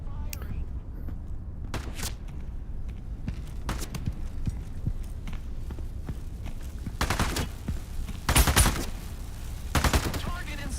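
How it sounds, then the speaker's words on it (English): Rapid bursts of automatic gunfire in the VR shooter Into the Radius 2, sharp cracks in quick clusters over a steady background hum, with louder volleys toward the end. "Firing."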